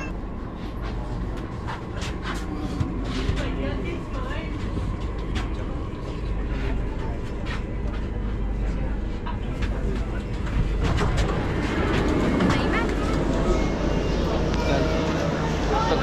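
A steady rumble of a Delhi Metro train running, with clattering and rattling throughout and voices talking inside the carriage.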